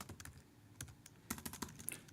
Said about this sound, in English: as I type in my predictions